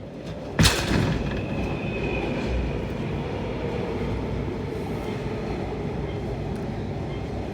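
A light rail train rumbles steadily close by at Tin Yiu stop, Tin Shui Wai, Hong Kong, with a sharp bang near the start followed by a continuous low rolling roar.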